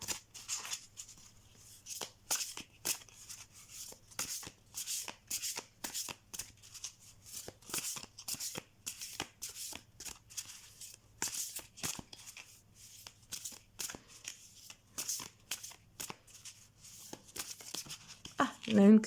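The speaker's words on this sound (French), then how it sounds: "J'adore battre les cartes." A deck of Gaulish wisdom oracle cards is shuffled over and over, giving soft, quick, riffling bursts close to the microphone, with a few faint voice sounds and a louder bump at the end.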